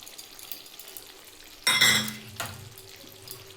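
Hilsa fish in mustard sauce with green chillies, drizzled with mustard oil and stirred in a pan, gives a short burst of sizzling and scraping near the middle, between quiet stretches of low kitchen background.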